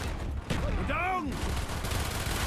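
Dense gunfire from Call of Duty Zombies rattles continuously beneath a steady roar of battle, with a voice shouting briefly over the top.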